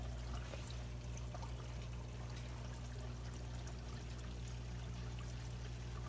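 Water flowing steadily in the sump of a saltwater reef tank, a constant close pouring and trickling wash over a low pump hum, unbroken and even from start to finish.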